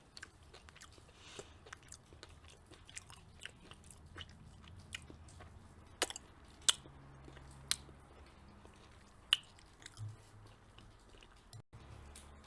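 Close, quiet ASMR chewing of garlic cauliflower, with soft crunchy bites and wet mastication repeating irregularly throughout, punctuated by a few sharper crisp snaps; no talking.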